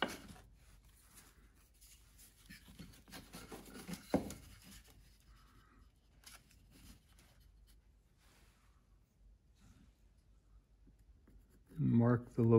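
Pencil scratching on a wooden drake decoy carving as the eye location is marked, faint brief scribbling strokes beneath a man's quiet speech, ending in a louder rub.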